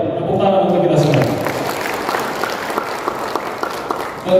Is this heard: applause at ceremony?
yes